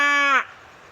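A voice imitates a cow's moo in one short, close, tonal call that lasts under half a second and then cuts off.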